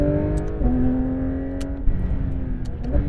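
A Porsche 911 GT3 RS driving on a race track, heard from inside as a loud engine note that holds a high pitch, drops with a gear change, then climbs again, with no talking.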